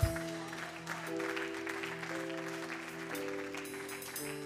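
Church congregation clapping together, a steady dense wash of applause that holds for several seconds beneath a sustained organ or keyboard chord.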